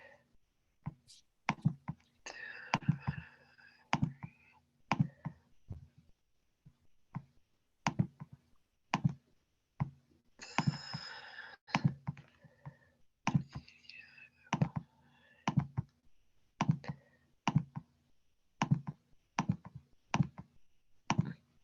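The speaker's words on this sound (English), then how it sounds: "I'll start typing that in" Typing on a computer keyboard during an online high school geometry lesson, a long series of quick, sharp key clicks in uneven bursts, close and clear, with a few soft spoken murmurs between them.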